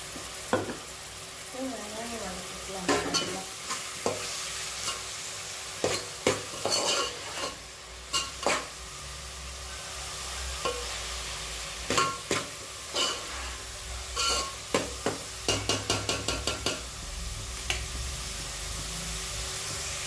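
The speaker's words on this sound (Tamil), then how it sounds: "வெங்காயம் நல்லா வதங்கிச்சு" Onions sauté in a pan for fish curry, giving a steady sizzle under frequent scraping clicks of a spoon stirring against the pan, close and continuous with no talking.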